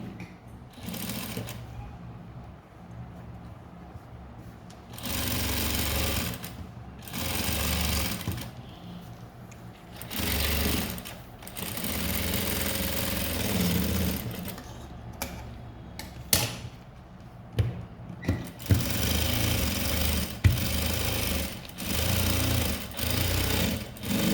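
Sewing machine stitching a blouse seam, running in several bursts of rapid mechanical chatter separated by short pauses, fairly close and moderate in level, with no voices.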